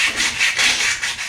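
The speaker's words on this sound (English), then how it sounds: "The noise you can hear is Natalie sanding by hand some of the metal work down because she's too scared to use the grinder." Metal parts being sanded by hand during a major restoration, heard as steady rhythmic rasping strokes, about five back-and-forth passes close by, with no talking.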